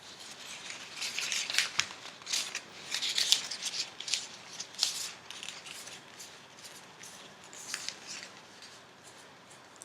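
Sheet of paper rolled into a long rod under the thumbs for papier-mâché craft, giving close, continuous dry rustling and crinkling with repeated soft scraping strokes throughout, no talking.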